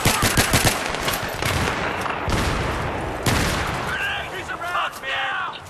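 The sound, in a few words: gunfire from a gun in the video game Battlefield 3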